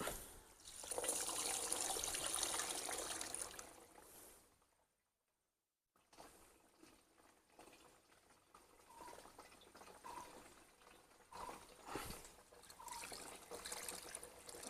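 Water trickles and splashes as it is poured and mixed with fish amino acid in a 16-litre can, a close liquid pour that pauses briefly before softer sloshing and dribbling resume.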